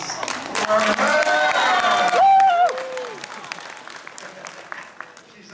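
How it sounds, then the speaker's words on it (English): A burst of applause from an audience at a celebrity convention panel at Wizard World Philadelphia, clapping with some cheering and voices mixed in, then fading to scattered claps and murmurs. "how about a little round of applause for her?"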